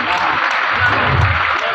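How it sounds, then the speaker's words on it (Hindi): Audience applause at a rural gathering of villagers and farmers, a dense steady clatter of many hands clapping throughout, fairly loud and continuous, with no distinct voice standing out above it. "आप सबके लिए तालियां बनती है आप सबके लिए"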